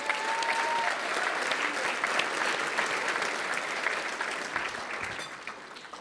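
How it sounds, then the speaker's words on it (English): Audience at an annual philanthropy awards ceremony, a sustained burst of loud, dense clapping from a large crowd that fades slightly toward the end. "let's give a big round of applause for our amazing local ski areas"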